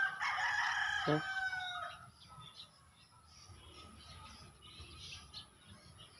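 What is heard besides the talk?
chickens clucking and rooster crowing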